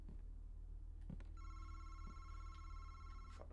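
In the horror video game Madison, a telephone rings with a sustained, bright bell tone lasting about two seconds, set against a low rumbling ambience and a few soft thuds.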